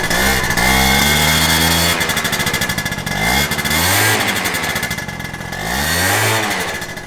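A moped engine, stock apart from an aftermarket S23 exhaust pipe, runs loud and close, blipping through several quick revs that climb and fall over a buzzy idle, with no talk.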